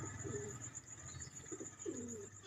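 Pigeons cooing softly in a few low, throaty phrases over a steady background hum, fairly close by.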